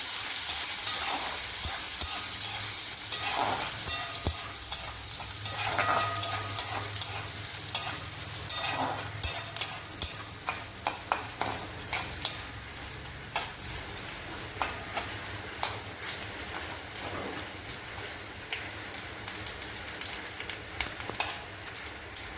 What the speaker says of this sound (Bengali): নারকেলটা একটু ভাজা হোক।